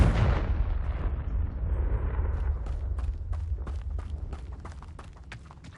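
A Confringo fire spell in Hogwarts Legacy detonates with a loud booming blast at the start, then a rumbling tail carrying crackling pops and debris-like bursts as the noise gradually fades.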